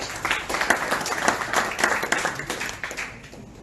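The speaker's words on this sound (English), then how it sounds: "A round of applause for him." An audience at a ceremony claps in sustained applause, dense and fairly loud, building briefly and then tapering off.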